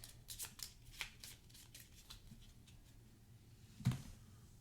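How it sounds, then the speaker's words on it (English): Gloomhaven board game cards are shuffled close up, a quiet run of quick riffling bursts followed by a single sharper tap as the deck is squared. "And then let's shuffle these up."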